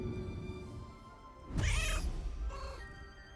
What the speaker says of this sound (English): So if I come over here, what if I meow?